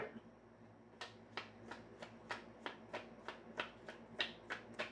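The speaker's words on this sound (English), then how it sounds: "Let's get 6 more cards up." Tarot cards snapped down one after another in a steady run of about a dozen crisp, close slaps spaced roughly every third of a second, with low room hum underneath and no talking.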